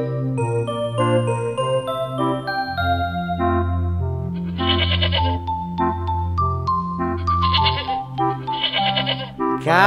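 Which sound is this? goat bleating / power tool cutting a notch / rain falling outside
goat bleating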